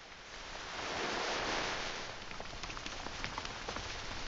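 Steady rain pours down on a muddy path in a downpour, a dense even hiss that swells in the middle and then settles. Faint scattered drips stand out here and there.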